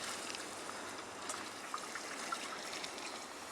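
Water from a watering can pours steadily onto hay spread over a no-dig garden bed, a soft continuous trickling splash, fairly quiet and unbroken.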